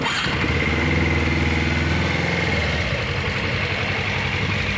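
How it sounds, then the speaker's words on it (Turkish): An RKS R250 twin-cylinder motorcycle engine fires up and settles into a steady, loud, close idle that runs evenly through the rest of the clip with no talking. "Ama motor rahat çalışıyor."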